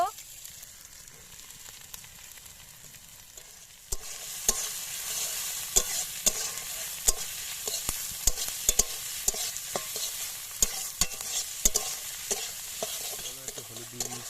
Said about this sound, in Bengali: এবারে এতে চিংড়ি মাছ ভাজাগুলো ঢেলে দেব।